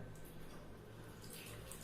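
Water runs steadily from a tap while hands are washed, a faint, even hiss with a soft splash throughout and no speech over it.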